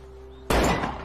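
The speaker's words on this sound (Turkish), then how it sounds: "Ha, kapıyı kırdı." A door being broken in with a single sudden, loud crash and splintering thud that rings out after a quiet moment, close by.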